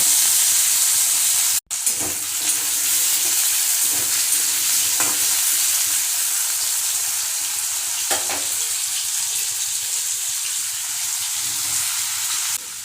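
Potatoes frying in hot oil in a wok for a soybean curry, a steady dense sizzle with soft stirring scrapes throughout, briefly cut by a short gap near the start, with no talking.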